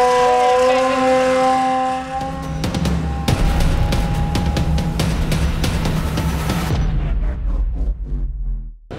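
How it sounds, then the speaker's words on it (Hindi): Flood warning siren sounding during a Ravi River overflow and flash flood, long wailing tones carried over outdoor noise, with loud impacts and a rumbling vehicle breaking in partway through. "अभी अभी एक और सायरन यहाँ पर बजा दिया गया है"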